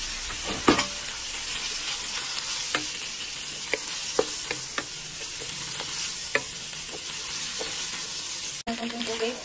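Squid and mixed ingredients frying in a pan while being stirred: a steady close sizzle broken by scattered clicks and scrapes of a utensil, with no talking.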